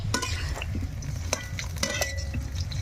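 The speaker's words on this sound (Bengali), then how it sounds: "প্রথমে কড়াইতে তেল দিয়েছে, তারপরে আলু কাটা ছিল, সেই আলুগুলো কেটে ভাজতে দিয়েছে, ভাজা হচ্ছে।" Cut potatoes fry in oil in a wok over a clay stove, a steady close sizzle with a few sharp stirring scrapes and utensil clinks.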